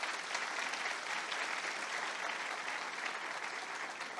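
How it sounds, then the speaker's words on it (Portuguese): A church congregation applauds during a service, a steady dense wash of many hands clapping at even volume throughout, with no voices standing out. "Queria que você aplaudisse ao Senhor pela vida deles."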